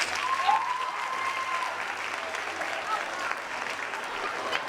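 Steady audience applause at the Invest in Girls Summit 2023, a dense even wash of clapping lasting several seconds with faint voices mixed in.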